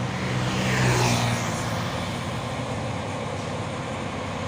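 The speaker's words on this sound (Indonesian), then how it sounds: "Masuk pasukan dam truk Fuso." A Fuso dump truck climbing a steep hill road with a load of foundation piles gives off a heavy, loud diesel drone, swelling briefly as it passes close, then settling into a steady laboring rumble.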